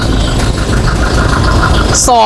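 A 2.4-litre diesel pickup engine idles at close range, a steady knocking mid-range clatter that ends abruptly as a brief voice cuts in.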